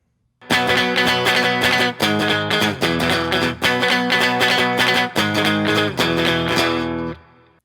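Distorted electric guitar power chords from a song ring out in a steady chugging pattern, loud and close, with short pauses between strummed phrases before the final chord fades out.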